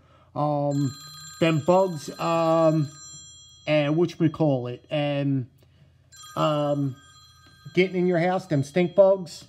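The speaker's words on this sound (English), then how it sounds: "so that was my phone that was going off" A mobile phone rings with steady, high electronic tones that run beneath someone talking at length in a house foyer.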